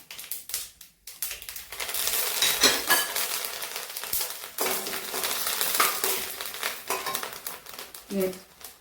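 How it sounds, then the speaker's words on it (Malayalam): Curry leaves dropped into hot oil after mustard seeds have popped, for a Kerala pickle tempering: a loud, steady crackling sizzle with rustling bursts and a few clinks of a utensil, continuing for several seconds. "കടുക് പൊട്ടിയതിന് ശേഷം കറിവേപ്പില ഇടാം."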